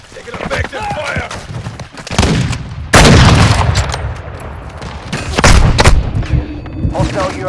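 Gunfire in Call of Duty: Modern Warfare II ground war, loud sharp bursts and heavy blasts cracking repeatedly across the scene, mixed with game voices and radio chatter between shots.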